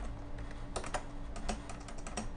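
Quick, light clicks of keys being typed on a computer keyboard, a close, steady patter of keystrokes with no voices.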